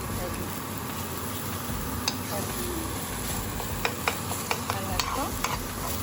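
Minced kefta meat fries in a pan while being stirred, giving a steady sizzle with intermittent scraping clicks from the utensil, close and moderately quiet.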